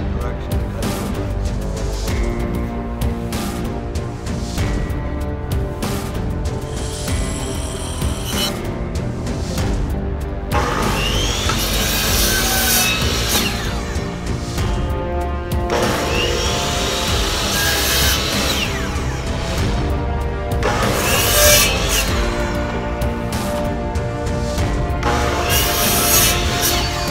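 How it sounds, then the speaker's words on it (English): An angle grinder with a small blade cuts through a cement Adirondack chair mold, a loud, continuous abrasive whine and rasp that swells in longer passes with brief pauses, close to the microphone. "I love this little blade on the grinder."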